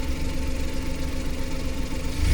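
A Suzuki minivan engine fitted with a power jet runs with a steady, rough mid-pitched hum and vibration, swelling slightly louder at the end as the throttle opens a little; no talking.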